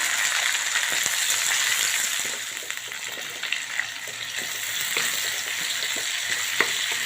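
Onions and tomatoes fry in a pan with a dense, steady sizzle and scattered crackles and small spoon taps, close up and fairly loud throughout.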